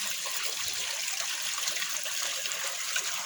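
Tap water runs steadily into a sink while beef tripe is washed by hand, a continuous soft hiss and splash at moderate distance with no talking.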